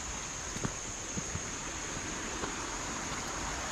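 Stream water flows steadily on a morning walk, a quiet broadband rush with a few faint splashes and ticks, no voices.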